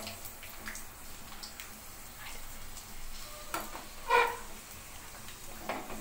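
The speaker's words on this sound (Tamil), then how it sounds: "நல்லா பொன்னிறமா வதங்கணும்." Ingredients for a mappillai samba rice sweet sautéing until golden brown, a faint steady sizzle with light intermittent stirring and one brief clink, quiet and close, no speech.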